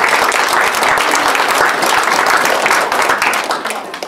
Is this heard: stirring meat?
no